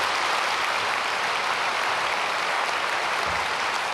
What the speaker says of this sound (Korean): 박수로 맞이하겠습니다.